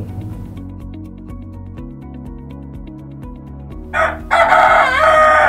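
An Ayam Cemani rooster crows loudly and close, a strong drawn-out call bursting in near the end over a background of tonal hum and steady noise.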